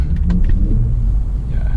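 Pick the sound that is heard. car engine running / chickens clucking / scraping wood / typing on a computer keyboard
car engine running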